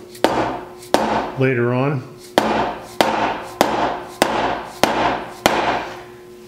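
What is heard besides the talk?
dead blow hammer striking wood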